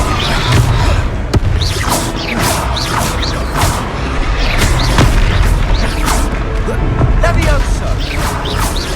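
Repeated blasts of a Confringo fire spell in Hogwarts Legacy during a troll fight, loud booming bursts landing every second or so amid constant battle noise, with shouted spell names over the top.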